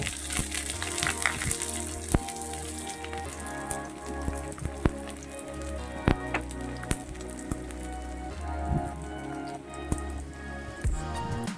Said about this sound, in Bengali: আর এদিকে কড়াইয়ে আমি সামান্য একটু তেল দিয়েছি, রসুনগুলো এবার একটু ভেজে নেব।